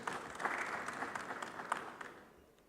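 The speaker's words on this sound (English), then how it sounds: "Please a round of applause for him as he steps forward." A conference audience at the Afreximbank Annual Meetings applauds with moderate, steady clapping that tapers off toward the end.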